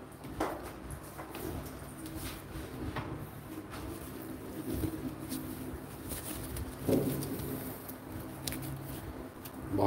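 Pigeon cooing at a live bird auction, faint and intermittent low coos spread through a murmuring room with soft clatter and occasional knocks in the background.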